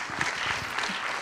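A brief burst of audience applause at a commemoration of the 1918 general strike, held at the Capitole. It comes as a steady, dense wash of many hands clapping, with no clear individual claps.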